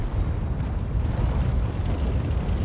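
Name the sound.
battleship artillery strike explosion in World of Tanks video game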